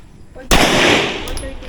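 A single loud gunshot cracks close by at an outdoor firing range in Norzagaray, Bulacan, followed by a long ringing echo that slowly decays.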